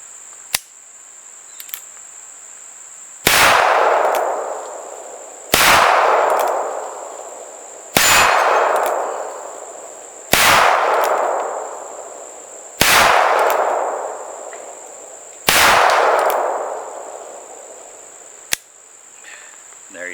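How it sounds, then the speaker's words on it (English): An Old West rifle-pistol combination firearm fires six loud, evenly spaced shots outdoors, each with a long ringing tail, while crickets chirp steadily in the background. "Now you're ready to shoot, and it would be just like that."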